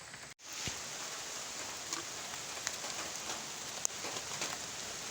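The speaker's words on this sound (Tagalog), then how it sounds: "inabot na tayo ng ulan" Steady rain falls outdoors near a stingless bee hive box, a soft even hiss of drops on surfaces with a few sharper individual drips, and no voices.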